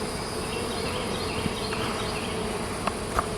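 Honey bees hum in a dense, continuous buzz at an open hive during a June inspection, close and steady throughout, with individual bees occasionally passing nearer.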